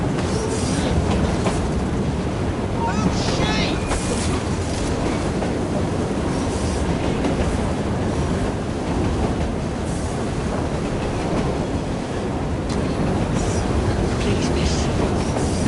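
A train rolls steadily onward in Assassin's Creed Syndicate, a dense continuous rumble with rattling carriage noise that stays loud and even throughout, with faint voices now and then beneath it.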